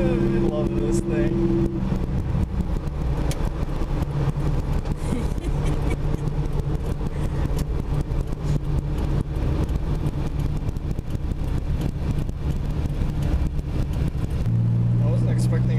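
A 160-horsepower MK2 Supra engine accelerating, heard from inside the car as a steady, moderately loud engine drone beneath ongoing talking.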